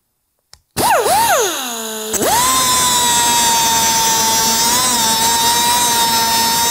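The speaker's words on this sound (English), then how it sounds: "just using a standard 3-inch cutoff wheel" A standard 3-inch cutoff wheel spins up and bites into metal while chasing threads, making a loud, steady high-pitched whine with a brief pitch dip at the start, then a sustained cutting scream with no talk.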